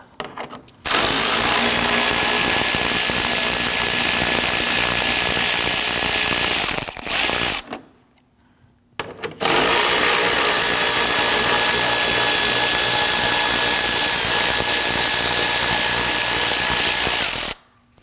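A power tool rattles loudly in long hammering bursts while removing the 10mm bolts along the front bumper cover of a 2010-2019 Ford Taurus, with a brief pause in the middle before it resumes and then cuts off.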